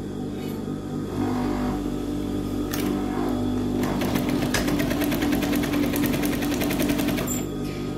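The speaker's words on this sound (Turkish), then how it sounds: "1 santimlik dikişimizi tamamlayacağım." Sewing machine running steadily, stitching a 1 cm side seam on a garment with a slit; continuous close mechanical whir at an even pace, with no talking.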